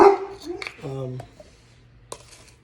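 A dog barks from elsewhere in the house in a kitchen while baby formula is being mixed: a few short yaps and whimpers rise over nearby talking, followed by a single sharper bark near the end.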